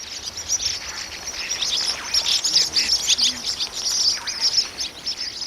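Flock of white-winged black terns over a channel, a dense continuous chorus of high, shrill chirping calls overlapping throughout, with faint background hiss.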